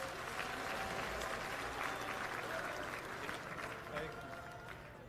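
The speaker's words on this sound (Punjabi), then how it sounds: "ਜ਼ੋਰਦਾਰ ਤਾੜੀਆਂ ਨਾਲ ਸਵਾਗਤ ਕਰੋ।" A crowd applauding at an Aam Aadmi Party political rally in Lambi, Punjab: dense, sustained clapping throughout, with voices talking over it.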